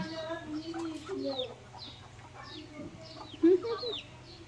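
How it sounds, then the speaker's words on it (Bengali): Chickens at a grandparent's rural home cluck repeatedly while being fed, with several hens calling close by in short, overlapping bursts over a low background hum. "নানু বাড়ির নানুর মুরগি খাওয়াচ্ছে"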